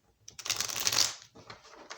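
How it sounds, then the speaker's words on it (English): A deck of tarot cards gets a quick shuffle close up, a short burst of crisp riffling and papery flutter that fades after about a second, followed by softer card handling. "A couple more shuffles here."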